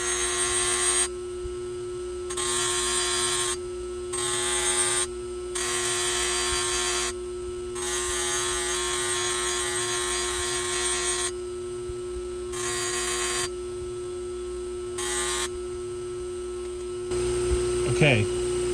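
Rifle barrel pressed against a spinning 320 grit polishing wheel, a steady electric motor hum broken by repeated bursts of loud grinding whir as the barrel touches and lifts away, all up close.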